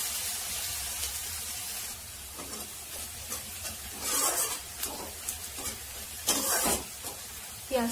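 Chopped onions frying in a pan for kadi pakoda, a steady close sizzle with scraping stirs and bursts of louder hissing in the second half.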